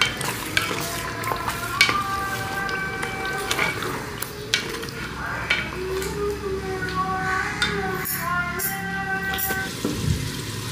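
Ground spinach and green chillies stirred in a frying pan with ghee, a steady sizzle under repeated scraping and clinks of a spoon against the pan, close and fairly loud throughout.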